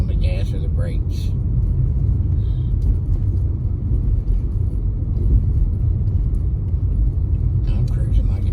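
A front-wheel-drive Scion car rolls slowly along a snowy road in a winter storm, a steady low engine and road rumble filling the cabin, with brief voices in the background at the start and end.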